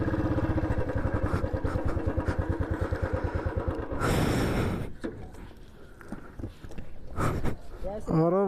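A motorcycle engine runs with a fast, steady thumping pulse for about four seconds on a motovlog ride with friends, then gives way to rushing noise and nearby voices talking.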